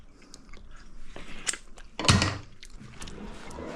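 Close crunchy bites and chewing into crispy-edged turkey or chicken enchiladas, a few sharp crackles with one louder crunch midway, quiet with no talking.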